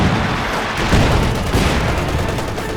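Heavy .50 cal machine gun fire in Company of Heroes 2, loud dense bursts layered with booms and battle noise, close and continuous throughout.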